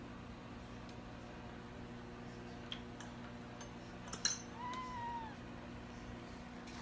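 A cat perched on top of a refrigerator gives a single faint, drawn-out meow indoors, over a steady room hum and a few soft ticks.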